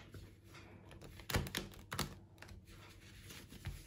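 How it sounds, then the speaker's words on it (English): Playing cards shuffled by hand at close range, a handful of crisp riffling bursts and soft taps spread over a few seconds in a quiet room. "So I will shuffle the cards first."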